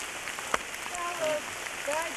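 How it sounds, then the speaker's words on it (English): Heavy rain falls on a narrow mountain path on Kilimanjaro, a steady hiss of drops with a brief sharp tap and faint whistling tones over it, fairly close and continuous. "Rain is heavier than ever."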